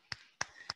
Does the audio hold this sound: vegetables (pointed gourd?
no